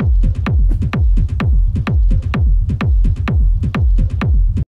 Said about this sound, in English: this time I'm using a loop from Mercury Core sample pack.